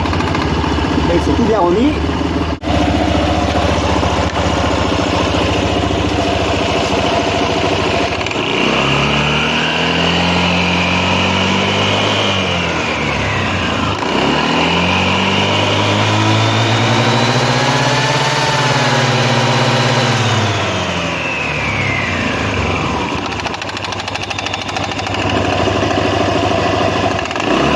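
A Honda Swing scooter engine, checked after transmission work, runs close and loud, its pitch sweeping up and down through several revs before settling into a steady idle, with someone speaking French over it.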